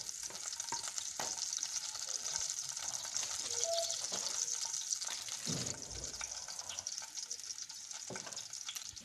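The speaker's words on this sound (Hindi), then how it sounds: "अब एक पैन में हम ऑयल डालेंगे, इसमें गार्लिक थोड़ी सी बारीक कटी हुई, इसे हम हल्का सा हिलाएंगे" Finely chopped garlic frying in oil in a pan, a steady bright sizzle held close throughout, with occasional stirring clatter and light knocks against the pan.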